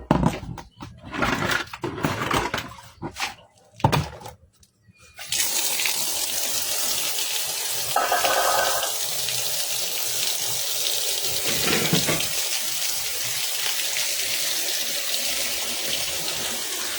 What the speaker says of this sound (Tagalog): magpaagas tayo ng tubig sa gripo.